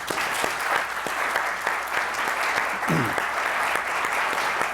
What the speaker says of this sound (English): if the audience could give them a round of applause